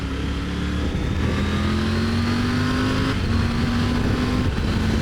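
A Triumph Tiger 900 Rally Pro adventure motorcycle pulls hard through the gears, its engine note climbing steadily, breaking briefly at quick-shifter gear changes, then rising again, loud and close with wind rush.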